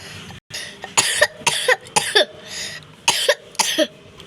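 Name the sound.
cough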